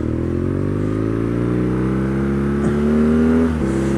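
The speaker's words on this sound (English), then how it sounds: "this is the type of bike that people will look at as you go past because of the noise" A 2019 BMW R nineT Scrambler motorcycle engine runs with a steady, throaty drone and a deep idle rumble. A couple of brief revs rise and fall on top, and the engine is close and alone without any voices.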